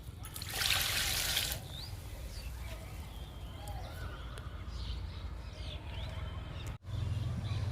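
Liquid plant fertilizer poured onto garden plants, a soft continuous trickle and splash of water close by, with a brief louder gush near the start and faint birdsong in the background.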